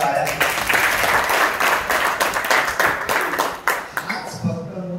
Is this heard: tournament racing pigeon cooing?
no